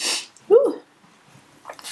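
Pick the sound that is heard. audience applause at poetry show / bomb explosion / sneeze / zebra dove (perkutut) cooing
sneeze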